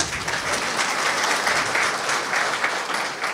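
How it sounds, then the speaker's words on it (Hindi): Audience applause at a Brahma Kumaris spiritual talk, a steady, moderately loud crowd of clapping hands continuing evenly throughout without speech. "आपको इच्छा हो तो ताली बजा सकते हो"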